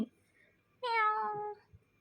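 A caged cat lets out a single clear, drawn-out meow lasting under a second, close and fairly quiet against a near-silent background, with a faint rustle before and after.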